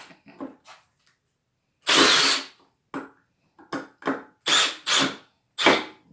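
Milwaukee M18 brushless cordless drill/driver on speed 2 with fully charged batteries, driving and backing out screws in a series of loud, close whirring bursts of a second or less, separated by short pauses.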